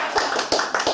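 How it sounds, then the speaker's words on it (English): A family claps in a brief round of applause, a few distinct close hand claps in a loose rhythm lasting about a second. "Round of applause for Alfie."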